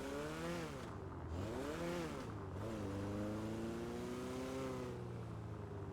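Weevil car in GTA V driving with a steady, continuous engine drone whose pitch rises and falls as it revs through gears, alone and fairly loud throughout.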